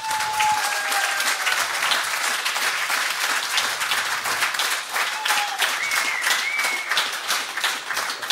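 A live hunting-stories event in Lierne fills with steady, dense crowd applause, continuous and fairly loud throughout, with a few whoops rising over the clapping.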